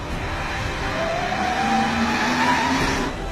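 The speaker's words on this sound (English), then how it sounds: "Mike Justice has been doing a phenomenal job driving the Batmobile." The wide, powerful Batmobile drifts around, its engine roaring continuously with rising pitch sweeps and a scrubbing tire noise, loud and fairly close throughout.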